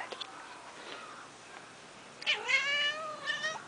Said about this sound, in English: And meow.